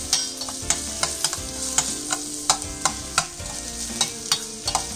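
Vegetable punugulu fritters frying in oil while being turned, a constant bright sizzle broken by regular sharp clicks and taps of a utensil against the pan, close and without speech.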